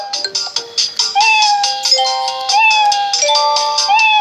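A cat named Yellow meows repeatedly and loudly, short cries giving way to longer drawn-out wails, close to the microphone and alone.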